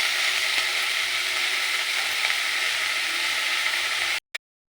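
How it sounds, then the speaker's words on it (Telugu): Coriander leaves fry in a hot pan with a steady, dense sizzle close by that runs continuously, then cuts off abruptly near the end. "ఇందులో కొత్తిమీరని కూడా అలా ఫ్రై చేసుకుంటే సరిపోతుంది."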